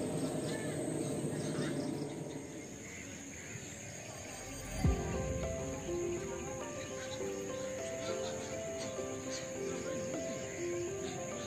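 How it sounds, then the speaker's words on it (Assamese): Birds call and chirp around a lake in the morning, a steady chorus with insect-like trilling, and a person talks over it at times. "আপোনালোকে শব্দটো শুনা পাইছে চাগে চৰাই ইমান ধুনীয়া শব্দ চাওঁ"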